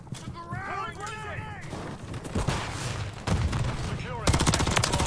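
Rapid gunfire rattles in a Call of Duty: Modern Warfare 3 multiplayer match on PC, with loud bursts and sharp cracks over dense game noise. Late in the clip the shots turn to fast, steady automatic fire.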